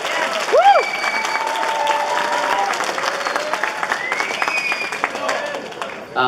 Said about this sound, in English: So please have a warm round of applause for Albert Cao, the localization producer of